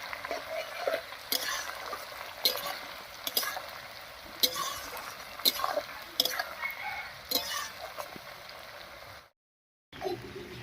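Calotropis leaves frying slowly in hot oil in a pan, with a low sizzle under repeated rhythmic scrapes and taps of a stirring spoon, close by, without speech, briefly cutting to silence near the end.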